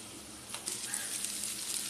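Faint, steady sizzling of a spiced potato mixture sautéing in a pan for fasting-style batata vada, with soft scraping stirs over the continuous hiss.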